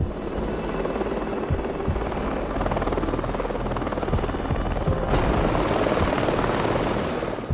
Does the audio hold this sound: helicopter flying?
yes